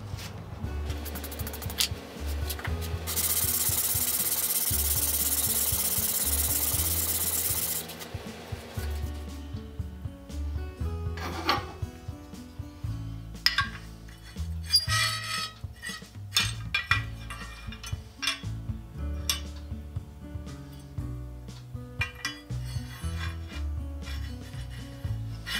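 Metal hand plane body rubbed back and forth over progressively finer sandpaper grits, giving steady rhythmic gritty scraping strokes, close and fairly loud, after an opening stretch of continuous hissing noise.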